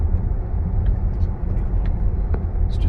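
A Tesla Model X Plaid accelerating on a highway, heard from inside as a steady loud low rumble of road and tire noise, with a few faint higher ticks and no clear talk.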